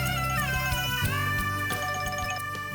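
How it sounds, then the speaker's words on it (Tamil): A mobile phone ringtone plays as a loud, continuous tonal melody with sliding notes over a steady low backing, filling the short stretch without any talk. "Excuse me, 1 minute. ஃபோன் வருது."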